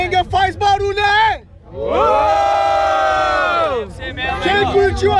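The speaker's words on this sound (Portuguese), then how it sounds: "Quem curtiu a rima do Alvarenga faz barulho aí!" A rap battle crowd at a freestyle final roars and shouts in a loud sustained cheer between bursts of an announcer's speech.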